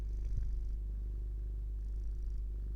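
A cat purrs steadily and close, a low continuous rumble lasting throughout with no talking.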